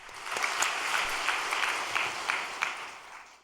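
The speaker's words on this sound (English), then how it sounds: "Why don't we offer a big round of applause for those who have come to offer prayer and devotion tonight?" An audience at an evening prayer and devotion gathering breaks into steady applause, a dense wash of many hands clapping at moderate distance with a few louder individual claps, sustained throughout with no voices.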